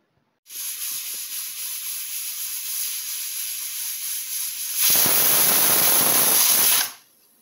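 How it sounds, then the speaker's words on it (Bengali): A pressure cooker whistles while cooking dal shukto in a home kitchen, a steady high hiss of escaping steam that swells into a louder, fuller blast near the end before cutting off abruptly. "2টো সিটি হয়ে গেছে।"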